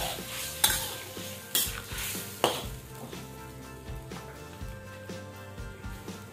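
A savory dish cooks in a pan, sizzling as a utensil stirs and scrapes it in several sharp strokes, close by, with background music playing underneath.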